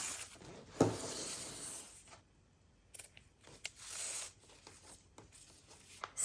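Scissors snipping through silk strands from a doily for a junk journal cover, a few quiet close cuts with soft rustling and brief gaps of near silence between them.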